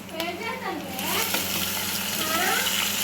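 Marinated fish pieces frying in hot oil for an Indian-style fish curry, a loud, close, bubbling sizzle that swells after the first second and stays strong, with someone speaking over it.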